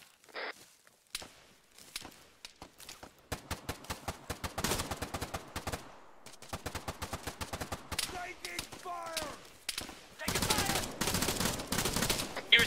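Gunfire in Arma 3, rapid bursts of automatic and single shots cracking in quick clusters with pauses between them, fairly close and sharp, while players talk over the firing.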